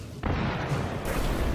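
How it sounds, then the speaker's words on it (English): Mines detonating as a marching creature army steps onto a minefield, a sudden heavy blast rising into a dense, sustained rumbling roar that stays loud to the end, with no voices. "and explosions rocked the area."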